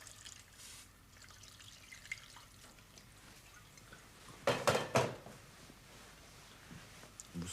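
White wine poured into a pan of leeks and onions, heard as a short burst of splashing liquid midway through an otherwise quiet kitchen, close and moderately loud.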